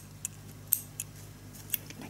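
Scissors snipping off the end of a yarn thread after sewing up a crocheted hat, a few light, crisp metallic clicks spaced apart, close and quiet, with no talking.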